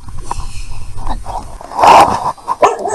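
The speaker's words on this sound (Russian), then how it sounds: "Ой, там собака живет." A dog barks nearby outdoors, a few sharp, loud barks over a couple of seconds with faint background noise.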